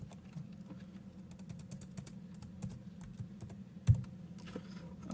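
Steady clicking of a computer keyboard while Python code is typed, with a quick run of soft, fairly close keystrokes and one louder tap near the end, no voices.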